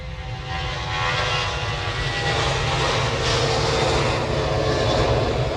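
An airliner departing Manchester Airport gives a steady, loud broadband engine roar that holds level throughout without a break, with rain-soaked outdoor ambience and no talking.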